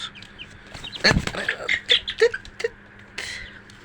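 Young chickens, raised from three-day-old chicks, cluck in a series of short close calls, with a louder burst in the middle before the calls thin out.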